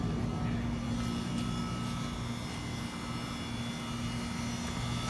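Heat pump running in cool mode with a Copeland reciprocating compressor, a steady close mechanical hum with a strong low tone and broadband fan rush held evenly throughout.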